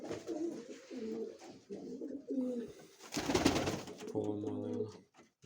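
Pigeons coo close by in soft repeated low calls, with a brief burst of rustling or flapping partway through.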